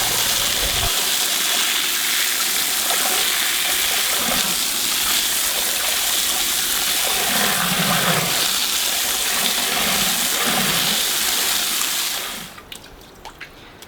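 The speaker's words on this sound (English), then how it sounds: "Now we're gonna wash them all off, and then they're ready to go." Freshly dug yams being rinsed under running water, a steady broadband splash and gush lasting about twelve seconds before cutting off abruptly, with faint knocks of roots shifting underneath.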